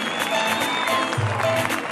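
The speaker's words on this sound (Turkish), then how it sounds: "Büyük alkışlarla uğurluyoruz kendilerini, dualarla, sevgilerle." An audience applauds to see off Turkish President Erdoğan, Azerbaijani President Aliyev and Libyan Prime Minister Dbeibeh, a steady wash of clapping that fills the whole moment at an even level.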